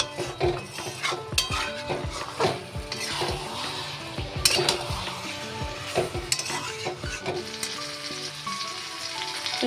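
Rice and other ingredients are stirred in a hot pot for chicken pishpash, with a steady sizzle and frying crackle under repeated scraping and clinking of a spoon against the metal, with no talking.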